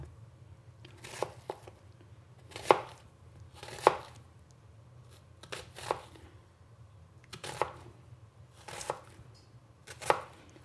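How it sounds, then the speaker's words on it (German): Vegetables for venison goulash are chopped coarsely with a knife on a board, about nine distinct, evenly spaced strikes roughly a second apart, close and moderately loud against a low background hum, without speech. "ich schneide das nicht fein, sondern ich habe das nur so eingeschnitten"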